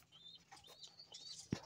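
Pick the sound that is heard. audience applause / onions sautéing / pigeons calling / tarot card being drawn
pigeons calling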